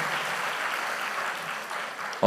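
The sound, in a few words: audience applause for choir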